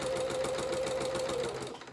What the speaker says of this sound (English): which is making sewing sound a little bit noisier